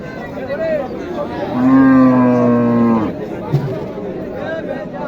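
At Dighir Haat cattle market in Naogaon, where Sahiwal and Gir heifers are sold, a single long, loud, close moo sounds over background crowd murmur and nearby talking.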